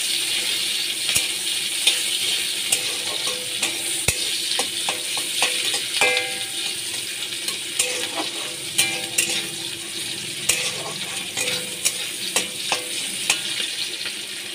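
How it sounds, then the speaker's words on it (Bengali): Chopped onions frying in oil in a pan with black cumin seeds, a continuous loud sizzle with repeated spatula scrapes and taps against the pan, heard close and without voices. "পেঁয়াজটা আমি লাল করে ভেজে নিচ্ছি।"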